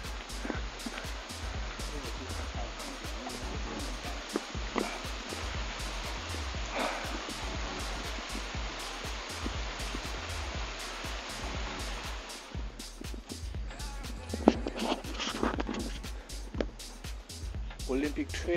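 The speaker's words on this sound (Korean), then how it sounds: "이리로 가면은 폭포가 있습니다" A waterfall on a mountain trail on Lantau Island pours in a constant rushing roar, with steady footfalls and breathing from a runner close by.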